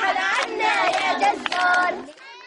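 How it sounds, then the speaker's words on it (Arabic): Street protesters carrying revolution flags chant slogans in unison, loud rhythmic group voices with harmonic shouting that holds for about two seconds before cutting off. "المتظاهرون تحدوا القصف وجابوا الشوارع رافعين أعلام الثورة ورددوا هتافات"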